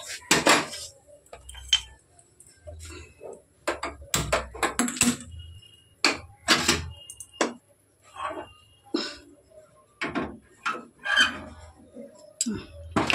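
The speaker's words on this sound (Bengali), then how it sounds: "বড় গ্যাসে ট্রান্সফার করে দিলাম" A pot of dal is moved onto the big gas burner with a busy run of close metallic clanks and scrapes of pot on stove grate, irregular and loud, with brief quiet gaps between the knocks.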